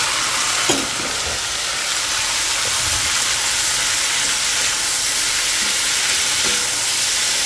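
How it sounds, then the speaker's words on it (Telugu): Cauliflower pieces drop into a hot pan of browned ingredients and fry with a steady loud sizzle and hiss, with a few stirring clinks near the start. "ఈ కాలీఫ్లవర్ ముక్కలు ఉన్నాయి కదండి, ఇందులో వేసుకోవాలి"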